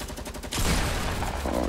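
Rapid bursts of Fortnite gunfire erupt after a brief quiet lead-in and continue as dense, loud, overlapping shots close by.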